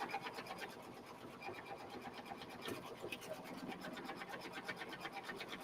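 A sewing machine stitching a reverse appliqué sweatshirt hums steadily with a fast, even needle rhythm, close and continuous throughout.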